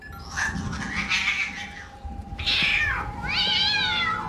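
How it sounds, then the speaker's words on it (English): A cat meows several times, drawn out and wavering, one call rising into a yowl, close and fairly loud with no talking. "To a cat meowing"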